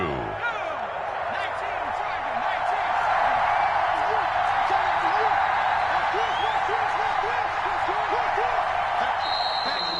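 Stadium crowd noise from an American football video game forms a steady, dense roar that holds throughout, with a whistle briefly heard near the end.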